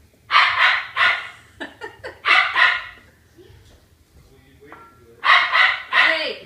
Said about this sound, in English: Can you stop the dog from barking,